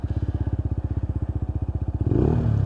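A Lexmoto ZSX-F 125 motorcycle engine cranks close up with a fast, even train of starter pulses, then catches and fires into a rough, louder idle near the end.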